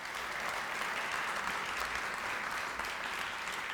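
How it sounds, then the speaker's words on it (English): An audience at the Boys and Girls Club Hall of Fame awards ceremony claps steadily for a few seconds. The applause is a dense, even wash of hands with no voices standing out. "You could do some clapping."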